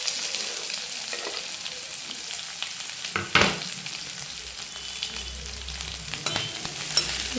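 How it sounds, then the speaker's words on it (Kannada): Cumin, chopped onion and curry leaves fry in oil with a continuous bright crackling sizzle, punctuated by a couple of louder clattering stirs partway through. "ಸ್ವಲ್ಪ ಚೆನ್ನಾಗಿ ಎಣ್ಣೆಯಲ್ಲಿ ಫ್ರೈ ಆಗಲಿ"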